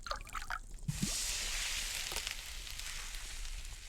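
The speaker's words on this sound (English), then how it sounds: "Add the broth to the pan." Broth poured into a pan in the cooking game Cucina Stellata: a couple of small drips and splashes, then a steady hissing, sizzling pour that carries on, moderately quiet, to the end.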